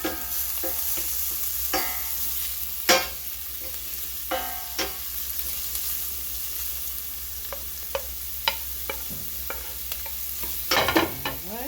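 A steady broadband sizzle of a beef patty frying in a hot pan runs throughout, punctuated by occasional clinks and scrapes of stirring.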